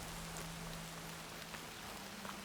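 Rain falls steadily in the video game Horizon Forbidden West, a dense even hiss of drops on surfaces with a faint low hum underneath, continuous and fairly quiet, with no talk.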